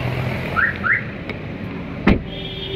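Short electronic chirps from a central locking alarm fitted to a Volkswagen Polo sound as the doors lock, two quick beeps followed by a mechanical clunk, heard close in a quiet setting.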